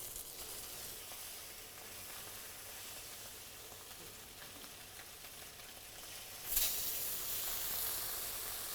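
Fish sautéing in oil in a restaurant kitchen produces a faint, even sizzle and hiss, with a sudden louder burst of spitting partway through that then settles back to a steady fry.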